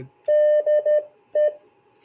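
Steady Morse code beeps sent at a relaxed pace: one long tone, two short ones, a pause, then a final short beep.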